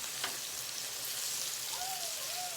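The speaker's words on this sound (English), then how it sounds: "when I'm frying chicken, I put like, you know, 4 pieces, 5 pieces" Chicken pieces frying in a pot of oil for Jamaican bar-be-fry chicken, giving a soft, steady sizzle with fine crackling, faint and continuous with no talking.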